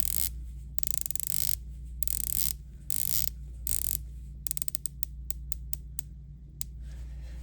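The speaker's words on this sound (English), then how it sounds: "the bezel action on these is great" A Breitling Superocean dive watch bezel turned by hand gives close, crisp ratchet clicks in short bursts and rapid runs separated by quiet pauses over a low background hum.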